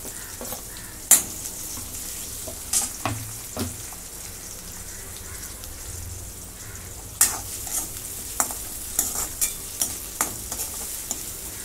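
Chopped onion sautés with garlic already roasted to a deep brown in a pan, a soft continuous sizzle broken by scattered sharp stirring clicks and scrapes, with no voices.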